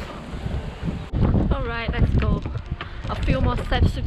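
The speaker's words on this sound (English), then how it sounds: "The wind is super strong." Strong gusting wind buffets the microphone at Oryukdo Skywalk in Busan, a steady low roar throughout as a person speaks over it, with occasional footsteps.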